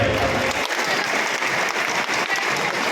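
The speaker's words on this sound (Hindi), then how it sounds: "मैं चाहूँगा पूरा हाउस इनके लिए ताली बजाए।" A full hall at a Lav Kush Jayanti celebration in Lohardaga claps for Dr. Shashibhushan, a dense, steady wave of applause with faint voices beneath.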